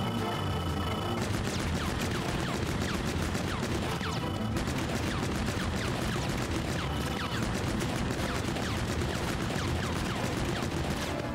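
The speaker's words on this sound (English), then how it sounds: "one more barrage of bullets" Rapid, sustained barrage of bullets from a weapon in the video game Pikmin 4, dense gunfire crackling continuously at steady loudness for the whole stretch, with no talk over it.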